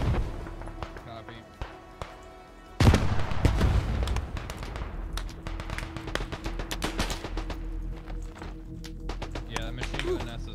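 Machine gun fire crackles in bursts during large-scale trench warfare in Beyond the Wire, a sudden loud surge followed by scattered rapid shots near and far, with voices talking over the battle.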